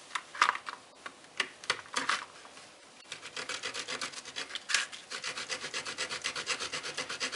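The small saw blade of a pair of Cabela's hiking pliers cuts wood in quick rasping strokes, first a few separate pulls, then a fast even rhythm, close and fairly quiet with no talk.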